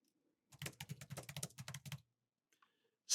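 Rapid bursts of computer keyboard typing, a quick run of close key clicks for about a second and a half, then a few isolated taps in near silence.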